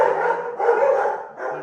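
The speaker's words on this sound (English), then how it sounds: "I'll have to excuse my dogs." Pet dogs at home barking and yipping in a few close, loud bursts with short pauses between.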